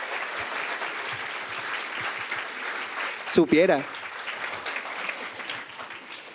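A crowd applauds throughout at a talk, the clapping steady and dense at mid distance, with a brief shout and voices breaking through partway.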